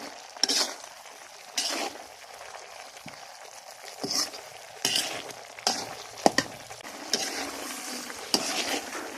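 Ridge gourd (dhundul) frying in a pan and being stirred, with a soft sizzle beneath repeated scrapes and light clinks of a spatula against the pan, close by and fairly quiet, no voices.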